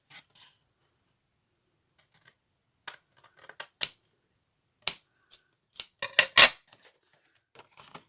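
Scissors snip through paper while making a paper storage case for stamps, with a few sparse, crisp cuts and rustles, then a quick cluster of louder snips near the end, all close and alone.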